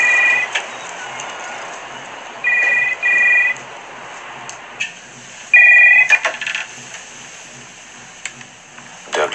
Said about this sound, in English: I suppose I could just give him a ring now Mum's out